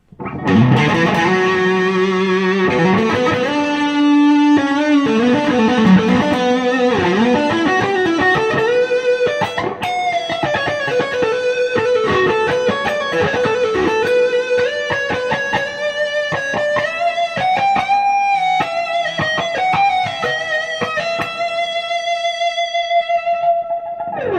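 An ESP Ltd H-400 electric guitar with Seymour Duncan JB and 59 pickups plays a distorted metal tone with a little reverb, a loud, continuous stream of chords and sustained notes with no talking.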